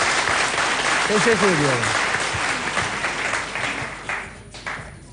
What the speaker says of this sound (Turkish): Daha doğrusu çiçek gönderen bütün dostlarımıza kocaman bir alkış gönderelim.